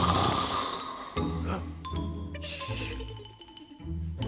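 A sleeping lion in a children's animal programme snores in a few slow, rumbling breaths with a soft chime, heard close and fairly loud with no talking.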